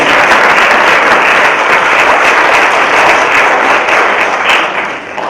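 A high school ceremony audience applauds steadily, dense clapping sustained throughout and tapering slightly at the end.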